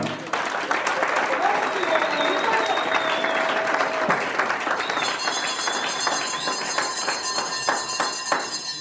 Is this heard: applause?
yes